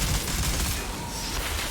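Rapid, sustained automatic fire from a CT15 minigun in the shooter game Outriders, a loud unbroken stream of shots with no pauses.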